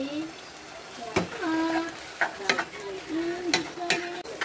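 Santol and shrimp cook in a pan with lemongrass, a soft simmering sizzle broken by several sharp utensil scrapes and taps against the pan, close by, with a voice speaking over it.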